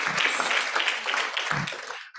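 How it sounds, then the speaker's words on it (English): A conference audience applauds a presenter near the close of the event, the clapping loud and steady for about two seconds before it thins out. Some voices carry over the clapping. "we ought to give a really big round of applause for Dean"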